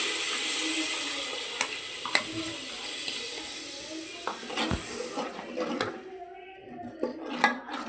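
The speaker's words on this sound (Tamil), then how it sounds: "இப்போது நம்ம அரைச்சி வச்சோட பேஸ்ட், மெயின் இன்க்ரீடியன்ட்ஸ் அதை நம்ம இதில் சேர்த்துக்க போகிறோம்." Ground masala paste for hotel-style veg salna is added to a pan and starts frying, giving a faint, hissy sizzle with scattered clinks and scrapes of a utensil against the pan.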